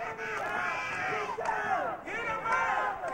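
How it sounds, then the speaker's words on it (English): Wrestling arena crowd at an NWA TV event in Nashville, Tennessee, cheering and chanting in loud, sustained rhythmic waves that swell and dip. "And the crowd trying to get behind Wildcat Chris Harris"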